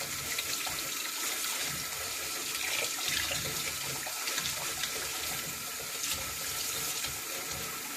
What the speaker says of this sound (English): Just washing up everything.